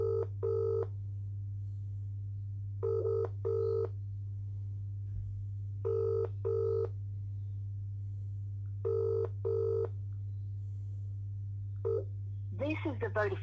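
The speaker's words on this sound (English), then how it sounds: "Ringing up Christopher Browell." A mobile phone call rings in repeated double bursts, about four pairs spaced evenly over a steady low hum, then a brief electronic tone at the end before Vodafone voicemail.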